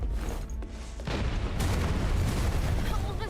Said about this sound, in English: It sounded like it was a cannon.